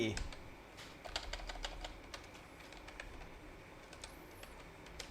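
Computer keyboard clicked while editing text on a Google Sites page, a few sparse close taps and clicks over quiet room tone.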